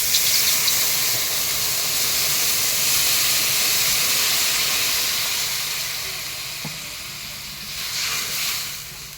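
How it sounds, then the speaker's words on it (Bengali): Water just poured into a hot pan of Bengali curry hisses and sizzles in a steady, close, broadband wash as the gravy comes to a boil, fading slightly midway, then swelling again near the end. "জলটা দিয়ে দিলাম। ঝোলটা ফুটে উঠেছে"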